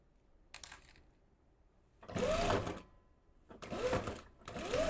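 Home sewing machine stitching a blouse seam in three short bursts, with a brief reverse at the end, close and fairly loud, separated by quiet pauses.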